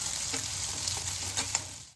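Two chopped onions frying in a pan for a puffed rice snack, a steady close sizzle with faint stirring scrapes, no voices.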